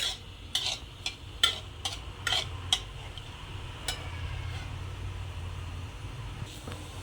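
Cumin and mustard seeds in hot oil, a run of sharp spoon clicks and scrapes against the pan early on, then a quieter steady sizzle with a low hum beneath; no one speaks.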